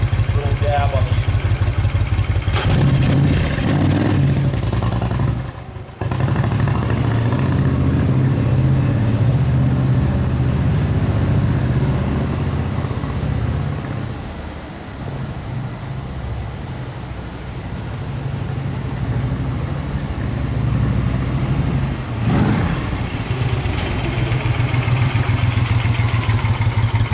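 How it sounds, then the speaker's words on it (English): A 1974 Moto Guzzi Eldorado motorcycle with fishtail exhausts runs close by in a steady, loud, low idle. The engine rises in a couple of brief revs, and a voice talks over it at times. "Motor's really nice and balanced, and it just sounds really nice."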